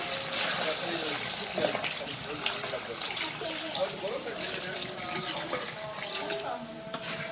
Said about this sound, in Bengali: এই যে এখন পানি দিয়ে দেই, ঝোলের পানি।